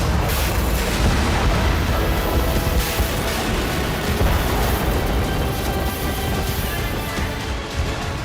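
Heavy explosions and artillery fire in a Ukrainian war zone roll on continuously, a dense, loud rumble of booms and blasts with no clear gaps and no voices.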